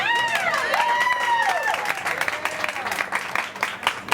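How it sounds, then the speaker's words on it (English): Crowd applause breaks out in an Irish pub for Entrepreneur of the Year, moderately loud clapping with some cheering, under a sustained tonal sound that fades out partway through. "we want to really applaud and celebrate Entrepreneur of the Year"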